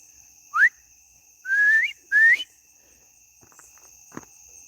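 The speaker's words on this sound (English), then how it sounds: "try a whistle. Yeah, let's see if I can. Yeah, bad whistle" Three short rising whistles from a person, the last two longer, followed by a few faint ticks against a steady high insect drone.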